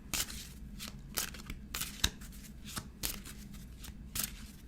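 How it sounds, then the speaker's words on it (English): Tarot cards being shuffled and pulled for a full-moon reading, a run of crisp riffling bursts at roughly one-second intervals with papery slides between them, close and quiet, with no voice. "I'm going to pull a Raphael card."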